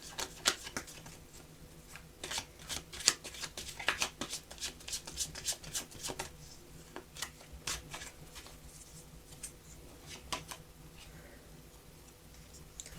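Tarot cards are shuffled by hand at close range to draw a clarifier card, giving quick papery riffles and soft slaps in uneven bursts, with brief pauses between handfuls and no talk.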